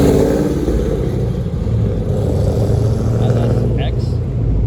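A car engine rumbles and revs loudly at a supercar meet, its deep exhaust drone steady and close, with people talking nearby over the noise.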